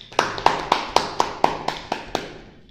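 A single person claps about nine times in a steady, even rhythm, each clap sharp and close, the claps fading slightly toward the end with no talk.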